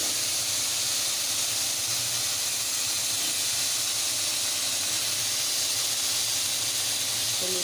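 Potatoes hiss and sizzle steadily in a hot pan, a loud, even broadband frying sound that continues without a break.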